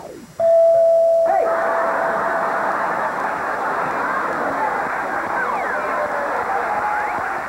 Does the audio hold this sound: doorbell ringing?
yes